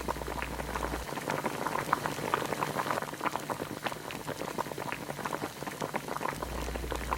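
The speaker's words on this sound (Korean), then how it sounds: "다진 마늘 1티스푼과 당근, 양파, 버섯 등을 넣고 바글바글 끓여줘요" Bulgogi with minced garlic, carrot, onion and mushrooms boils in an earthenware pot. A close, busy bubbling and popping runs throughout, with a low hum at the start and end.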